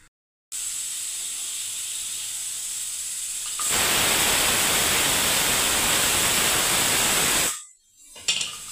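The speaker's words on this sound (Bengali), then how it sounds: "এদিকে আমার প্রেসার কুকারে হলুদ মটরটা বন্ধুরা সেদ্ধ হচ্ছে" A pressure cooker boiling yellow peas lets out a loud, steady steam hiss that grows stronger partway through before cutting off abruptly, with no talking.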